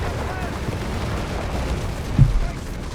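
Tank guns fire and shells bounce in a Company of Heroes 3 match, with a single muffled boom standing out partway through over a steady low rumble of battle.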